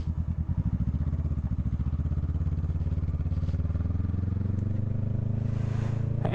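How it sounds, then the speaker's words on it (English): A motorcycle rides along a road in cold winter weather, its engine a steady, loud, close throb with a rapid pulsing beat that holds throughout and no voices. "have you never seen somebody ride a motorcycle in the cold before?"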